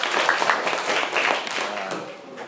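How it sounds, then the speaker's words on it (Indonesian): Classmates clap for a student in a classroom, a dense, steady patter of hand claps lasting the whole moment at moderate loudness, with some voices mixed in. "Tepuk tangan dulu ya."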